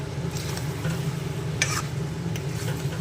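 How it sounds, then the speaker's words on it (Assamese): Potatoes and chicken fry together in a pan, a steady soft sizzle with some stirring scrapes and no talk. "এতিয়া মই আলু আৰু চিকেন দুয়োটাই অকণমান সময় দেৰিলৈকে মই ভাজিম"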